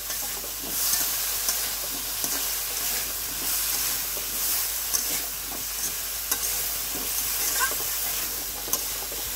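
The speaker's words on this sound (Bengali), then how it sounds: "মশলাটা কিছুটা সময় একটু তেলের উপর একটু কষতে হয়" Spice paste frying in oil for a Bengali koi fish curry with drumsticks and potatoes, stirred steadily: a continuous sizzle with scraping stir strokes and occasional sharp ticks, close and moderately loud.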